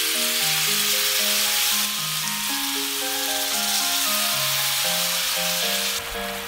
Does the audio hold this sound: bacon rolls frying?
yes